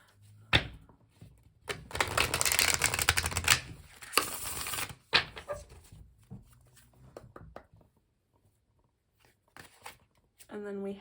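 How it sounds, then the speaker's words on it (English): Tarot cards shuffled in two dense riffling bursts, crisp and close, separated by a pause, followed by quieter scattered card handling and a few brief voice sounds. "One more shuffle and then we'll cut."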